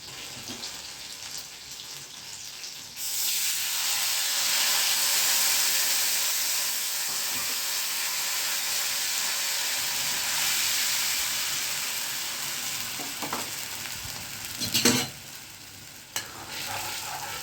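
Green chillies and asafoetida crackle and sizzle in hot oil for a tempering, the hiss surging loud and steady after a quiet start, with a few sharp spatters and clinks near the end.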